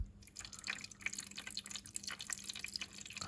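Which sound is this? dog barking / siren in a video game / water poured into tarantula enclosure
water poured into tarantula enclosure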